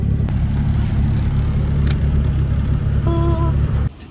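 A car engine with a damaged transmission hums steadily as it drives, a low continuous rumble with a brief higher whine near the end before it drops off.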